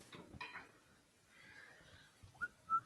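A person whistling while woodturning gives two short faint whistle notes near the end, after soft clatter and breathy noise in a quiet workshop.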